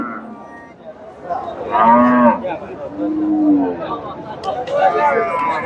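A Friesian cross dairy cow moos at a busy cattle market, two or three drawn-out, loud calls close by, with crowd chatter and people talking underneath.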